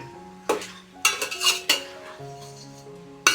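Biryani masala stirred in a metal cooking pot, with several sharp clanks and scrapes of a spoon against the pot in irregular bursts, close and loud, and no talking.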